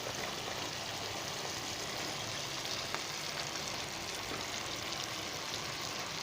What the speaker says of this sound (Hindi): अभी सब्ज़ी इसमें शामिल करते हैं चप्पन टिंडों की।